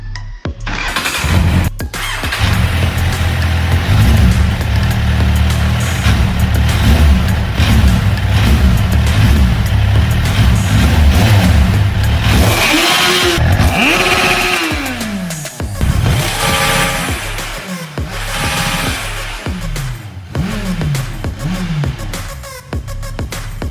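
A restored Kawasaki Z1000 motorcycle engine cranks and catches, then idles loudly and close with a rough, throbbing beat before a string of sharp revs rising and falling in pitch toward the end, no voices.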